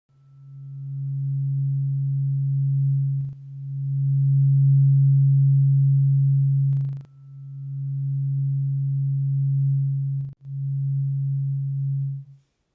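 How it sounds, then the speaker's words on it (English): A low tuning fork struck three times, each strike ringing as a steady pure hum that sustains for several seconds before the next, clean and isolated against silence. "I'm going to play one of these tuning forks, and I want you to tell me if it's the low tuning fork or the high tuning fork"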